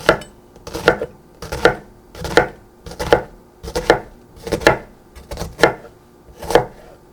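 A kitchen knife dices an onion on a cutting board in a small dice, giving about ten crisp chops in a steady rhythm, each a sharp close tap with a brief scrape, and no talking.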